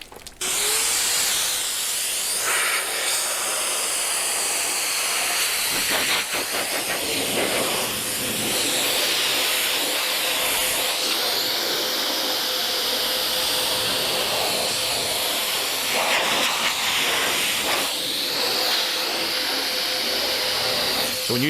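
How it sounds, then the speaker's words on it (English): A blow dryer runs loud and close with a steady hissing roar, its pitch shifting slightly as it is moved about, and faint background sounds now and then. "let's turn the blow dryer on"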